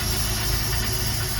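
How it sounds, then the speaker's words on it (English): A Mercruiser Thunderbolt boat engine runs steadily at a low, even idle, a continuous close hum with no voices. "the engine's now running"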